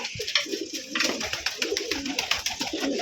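Pet pigeons kept for sale cooing steadily up close, a dense run of soft repeated coos and throaty burbles with faint rustling, and no talk.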